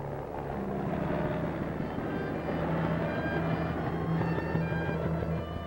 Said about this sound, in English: Army helicopters are speeding the emergency cases to the medical center.